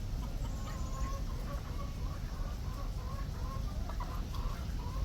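Chickens cluck nearby in a backyard flock with a rooster among the hens, short repeated clucks scattered over a steady low outdoor background, fairly close and without talk.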